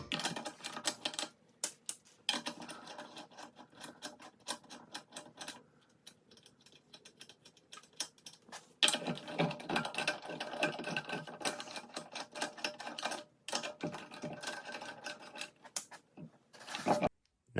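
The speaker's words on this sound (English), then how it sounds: "loosening the lug nuts until each one pops off" Car wheel lug nuts being loosened with a wrench: rapid bursts of fine ratcheting clicks, fairly quiet and close, broken by short pauses as each nut is worked.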